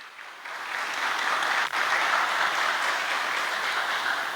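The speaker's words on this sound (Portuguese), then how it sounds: "Vamos dar uma salva de palmas para a palavra de Deus" A church congregation bursts into sustained applause after a sermon reading, a dense, even wash of many hands clapping at steady loudness with a brief dip partway through.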